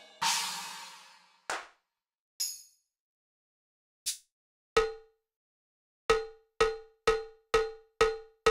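A Yamaha RX5 drum machine plays its cowbell sounds after a couple of other hits, a series of sharp metallic clanks that falls into a steady rapid repetition, dry and close with no voices.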